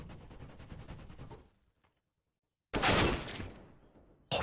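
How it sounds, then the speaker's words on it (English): Glock pistol gunfire in a Counter-Strike match, a burst of rapid shots that stops abruptly into near silence, then a loud crash of shots and impacts. "And now with the Glock, Enzo will kill him."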